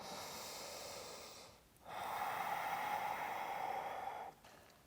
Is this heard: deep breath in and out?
yes